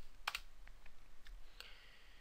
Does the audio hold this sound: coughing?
no